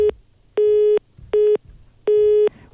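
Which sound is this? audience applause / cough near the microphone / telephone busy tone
telephone busy tone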